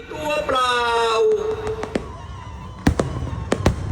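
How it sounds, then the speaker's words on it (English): Fireworks at a Thai festival crack and pop in sharp bursts after a whistling launch, with a crowd's voices loud at the start and more bangs echoing near the end. "including an impressive display of fireworks that naturally everyone and their dog is recording"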